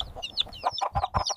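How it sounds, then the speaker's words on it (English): Hen clucking in a short burst of several quick, close calls, loud and alone with no talk over it. "Hen."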